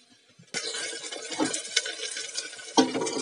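Onions fried in a pan are stirred together with tomatoes, green chili and ginger, giving a steady scraping, sizzling rustle with a few sharper clinks of the spoon against the pan, close and fairly loud, with no talking.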